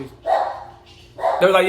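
A dog barks a few times indoors at home, sharp yaps in two short bursts mixed in with someone talking.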